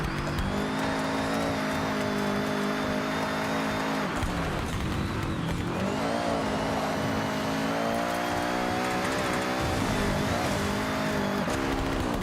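Forza Horizon 6 drift car in a video game, engine revving hard and continuously with pitch rising and falling through gear changes, a brief dip and tire scrub around the middle, loud and close throughout.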